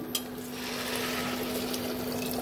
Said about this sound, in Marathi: ऍड करूया पाणी